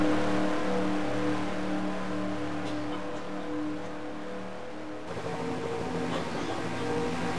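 Race car engines roar continuously in an NNSCRA Twin Peaks Cup Series sim racing event at a veteran shootout, a steady droning pack of engines with no one speaking.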